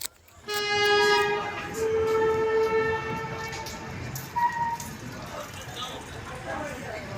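Passenger train departing from a station, a long sustained horn blast sounding loud and near, followed by a shorter toot, then rumbling carriages moving off with background noise.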